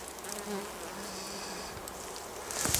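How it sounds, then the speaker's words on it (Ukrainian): Dense buzzing of many bees, a steady droning hum with individual insects swelling louder as they pass close, no speech. "Подивіться, що витворяють бджоли."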